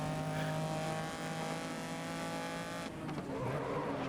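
Rear-wheel-drive race car without traction control in the GRID racing video game, its engine droning steadily with a sustained high tone and a hint of tire squeal, loud throughout, briefly shifting pitch near the end.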